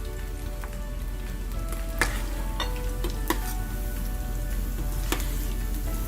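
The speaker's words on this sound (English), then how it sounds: "I can hear it getting crispy because of the rice flour" Cauliflower florets coated in rice flour batter fry over low heat for crispy Gobi Manchurian, a close, steady bubbling sizzle with scattered sharp pops and crackles over a faint low hum.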